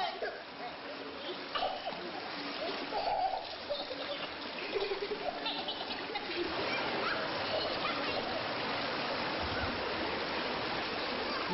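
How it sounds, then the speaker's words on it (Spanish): Water splashing and streaming as someone bathes in a river with plain water, a steady rushing wash with irregular splashes, moderately close and fairly quiet. "Bañarse en el río es algo que hacen a diario"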